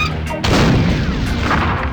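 A single loud shot bursts out in The Curse of Monkey Island and rolls into a booming, rumbling tail that fills the rest of the moment, with no talking over it.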